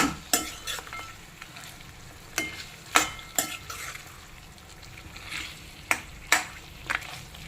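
Mutton tossed with spices in a hot pan, a steady sizzle broken by repeated sharp scrapes and clinks of a spoon stirring against the vessel, close and loud.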